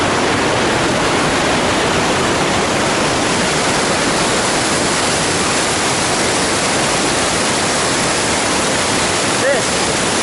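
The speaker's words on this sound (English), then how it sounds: "I love that you can get this close to such a monstrous waterfall." Dettifoss, Iceland's massive waterfall, roars as a dense, unbroken wall of rushing water, loud and constant from very close, with no break or variation throughout.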